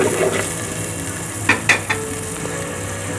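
Chili and turmeric powder are stirred in a hot, sizzling pan, a steady frying hiss with a few quick scraping strokes of a spoon in the middle.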